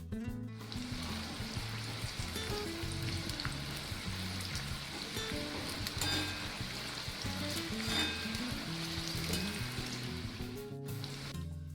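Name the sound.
onions frying in a pan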